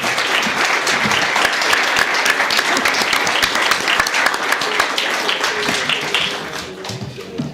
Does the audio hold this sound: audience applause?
yes